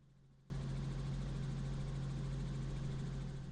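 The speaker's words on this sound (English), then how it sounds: "let it just cool down naturally, and then we'll basically shut down the helicopter and get on our way" A helicopter engine idling steadily before shutdown on a winter day, starting abruptly after a brief quiet moment and then holding a loud, constant drone with a strong low hum.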